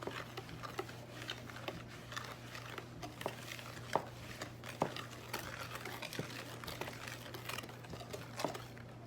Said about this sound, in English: Kind of stir that around.